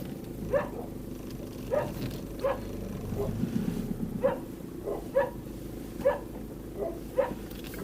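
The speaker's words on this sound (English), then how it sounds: "The friendly dogs." Friendly dogs bark in short, evenly spaced yelps, about a dozen over several seconds, heard from a middle distance over a steady low rumble, with no talking.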